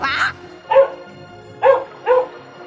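Four short dog barks, spaced irregularly, fairly close and clear against a quiet background.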